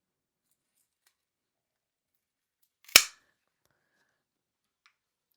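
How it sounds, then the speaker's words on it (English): A single crisp snip of scissors cutting through a houseplant stem during repotting, one sharp close click in otherwise quiet surroundings. "I will cut down here."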